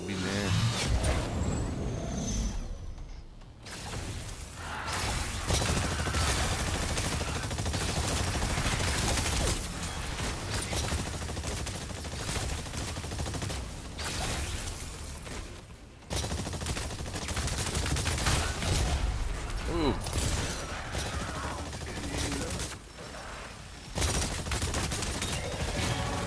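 Rapid bursts of gunfire from ExoPrimal rattle in dense volleys separated by short pauses, loud and close, with brief mechanical clicks between bursts.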